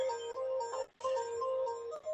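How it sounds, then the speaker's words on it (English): An ISDN desk telephone rings during an online working-group meeting, giving two electronic tonal ring bursts with a brief gap between them, steady and fairly close, with no one talking over it. "I'm sorry for my ISDN phone. I have no way to stop that from ringing."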